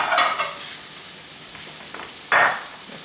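Beans being stirred in a hot pan for meatless burritos, giving a steady sizzling hiss with a couple of louder scraping sweeps, close up and with no speech.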